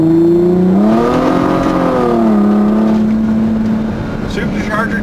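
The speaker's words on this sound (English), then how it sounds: "Supercharger comes on." A supercharged Chrysler SRT-6 engine under load, a loud close whine rising in pitch over engine drone, holding steady before easing off near the end, with a voice speaking over it.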